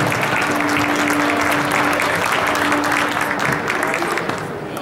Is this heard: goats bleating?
no